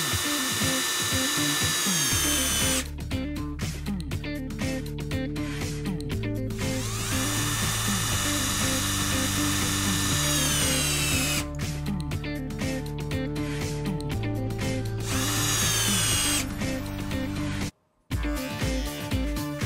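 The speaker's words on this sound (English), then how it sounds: "We are going to compare the starting speed of different screws." Series of screws driven into wood with a power drill/driver, each run a sustained whirring motor burst with rising pitch lasting a few seconds, separated by short ratcheting pauses, loud and close with no talking.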